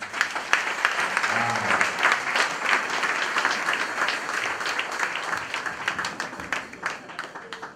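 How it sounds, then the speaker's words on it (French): A church congregation applauds and cheers the Lord at a French-language worship service, with steady sustained clapping and crowd noise filling the whole stretch without letup. "Est-ce qu'on peut acclamer le Seigneur pour leur vie?"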